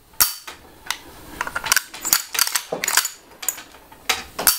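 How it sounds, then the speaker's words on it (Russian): A Typhoon-F12 shotgun trigger mechanism is cocked and dry-fired after trigger tuning, producing a series of sharp, close metallic clacks and snaps in an uneven rhythm. "И при таком положении пробуем взвести раму и произвести выстрел."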